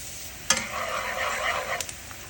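Shallot, garlic and tomatoes sauté in about a cup of tomato seed oil, giving a steady close sizzle with a sharp clack of a utensil at the start and light stirring scrapes near the end.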